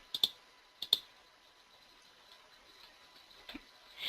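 Computer mouse clicks in quiet surroundings while filling in a probate software form: two quick double clicks near the start, another faint pair later, then a soft rustle at the end.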